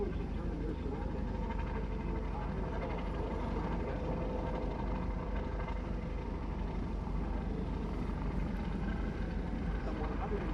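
Coast Guard MH-65 helicopter flying at an air show, a steady loud rotor and engine roar held at a constant level throughout.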